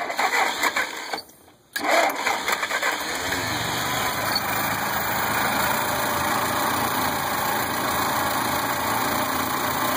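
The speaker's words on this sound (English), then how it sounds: "there's a bit of a back rumble through the exhaust" A car engine cranks, catches after a short gap and settles into a steady idle with a low exhaust rumble, heard close and fairly loud throughout.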